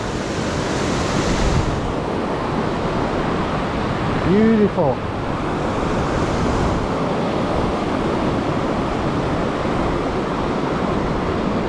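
Running water at Laurel Falls waterfall, a constant broad rushing roar, with a single short spoken word rising briefly above it midway.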